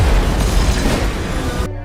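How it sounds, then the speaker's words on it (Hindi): A bomb explosion: a deep, rumbling blast roars and sustains for nearly two seconds, loud and dense, then cuts off abruptly into a low hum. "सेंट्रल लंदन में बम धमाका हुआ।"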